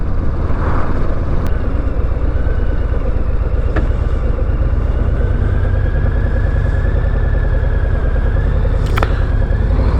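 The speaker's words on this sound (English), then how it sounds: "the exhaust does sound very anemic" A stock 2023 Harley-Davidson Low Rider ST motorcycle engine idles and rumbles steadily up close, with a low, even, rather anemic exhaust drone and a few faint clicks on top.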